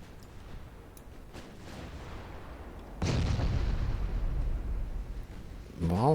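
Naval artillery fire from a French battle fleet in the Ultimate Admiral Dreadnoughts naval warfare game, set in 1895: a heavy broadside boom bursts in and rumbles on, over a steady battle din, followed by another sharp blast near the end.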